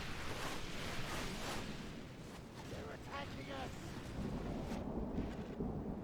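Heavy rain and rolling thunder in a Lord of the Rings Third Age strategy battle, a steady loud roar with low rumbles throughout and a brief whistling sweep in the middle.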